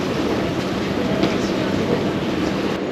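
A bullet train pulls into the platform at Shinagawa station in Tokyo, a loud continuous rushing rumble of wheels and air with a faint high whine on top.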